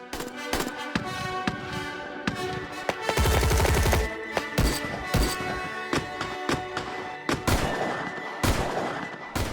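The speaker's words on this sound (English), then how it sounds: "For an hour, there is a hail of bullets, discarded shells, and gunfire on the range." Gunfire on a shooting range, with sharp irregular shots that crack out singly and in quick bursts, including one dense rapid run, loud and close with some echo between the reports.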